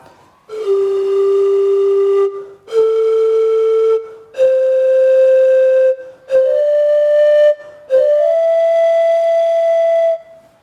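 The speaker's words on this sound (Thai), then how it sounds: "อันนี้คือเสียงโหวตเต็มนะครับ" A Thai vot bamboo wind instrument is blown in five long, steady breathy tones, each held about two seconds with short breaks, pitch stepping higher; loud and close.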